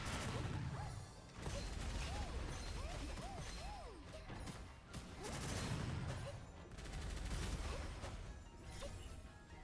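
Breaking cannons in the shooter game Gunfire Reborn blast out spreads of shots, heard as a dense, continuous barrage of gunfire and crashes that swells and ebbs repeatedly, with chirping electronic game effects over the top.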